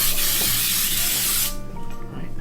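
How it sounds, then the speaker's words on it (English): Pam flour cooking spray blasts into a cake pan in one steady, loud hiss lasting about a second and a half before cutting off abruptly, up close, with no talk. "We're gonna spray with this Pam flour stuff."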